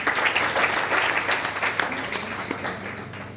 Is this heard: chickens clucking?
no